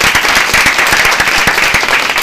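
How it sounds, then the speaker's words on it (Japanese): Dense studio audience applause at a Japanese variety show with the EBiDAN group, many hands clapping loudly and continuously at close range throughout, with no break. "拍手。"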